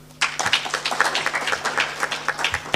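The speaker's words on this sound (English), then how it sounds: "I think he deserves another hand clap." An audience at a live civil-society meeting on Uganda's Universal Periodic Review breaks into applause, a steady run of many hands clapping over a faint electrical hum, starting abruptly and continuing to the end.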